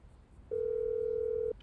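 A steady electronic phone ringback tone plays in GTA V as a call rings out, a single sustained beep lasting about a second over quiet background noise.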